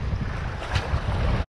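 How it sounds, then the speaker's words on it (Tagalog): Strong wind suddenly gusting at sea off Occidental Mindoro during a light-tackle fishing trip, a loud steady roar buffeting the microphone with waves and wash beneath, swelling briefly midway before cutting off. "Grabe, lumakas bigla yung hangin"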